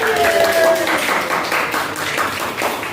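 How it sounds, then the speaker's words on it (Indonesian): Classmates clap for a student group during a lesson, a short, dense burst of applause in a room, mixed with voices talking and calling out over it. "Tepuk tangan kelompok Abil ya"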